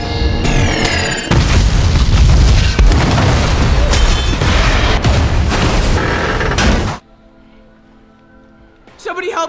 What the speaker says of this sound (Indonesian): Tiba-tiba, glider Green Goblin terbang ke arah Bibi May dan disusul dengan lemparan bom.